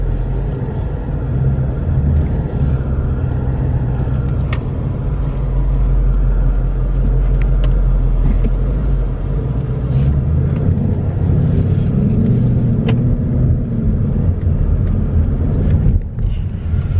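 A Ford Mustang GT Premium with the 5.0 engine on a test drive gives a loud, steady engine rumble that holds without a break for the whole stretch, with no voices over it.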